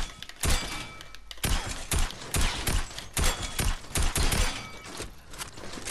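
A tactical assault rifle fires in Fortnite Battle Royale, loud bursts of rapid gunshots in several clusters with short pauses between them, close and with no talk.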